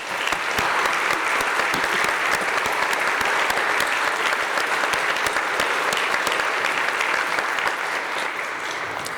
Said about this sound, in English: please join me also in a round of applause for those who are here today